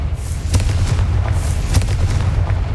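The Confringo blasting spell in Hogwarts Legacy sets off a series of deep, rumbling booms with several sharp bursts over a continuous heavy low roar, loud and close.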